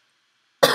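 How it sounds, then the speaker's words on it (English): A single sharp cough bursts in abruptly after a stretch of near silence, close and loud at the very end. "Oh my gosh, sorry for coughing,"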